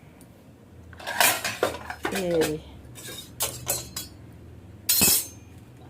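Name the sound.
ladle and cooking pots clinking in kitchen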